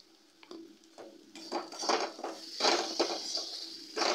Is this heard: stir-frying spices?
yes